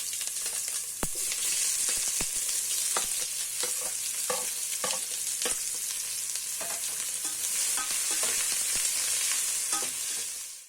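Sliced onions and green chillies sauté in hot oil in a large vessel for prawn biryani, a dense steady sizzle punctuated by frequent crisp clicks and scrapes of stirring, close and without speech.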